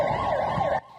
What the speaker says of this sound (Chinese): 救护车赶到现场